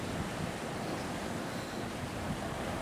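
Sea waves at the seaside wash in as a steady, broadband roar of surf, mixed with wind buffeting, continuous and fairly loud throughout with no voices.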